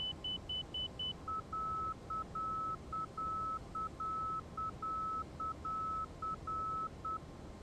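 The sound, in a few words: cockpit beeping in X-Plane 12 flight simulator video game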